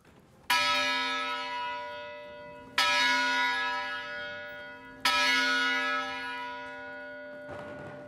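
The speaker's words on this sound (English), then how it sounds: "You know it's time to go to class when the Sphinx Club rings this bell." The Center Hall bell at Wabash College rings three clear, resonant strokes about two seconds apart, each tolling loudly and decaying slowly in a hall, alone with no talk.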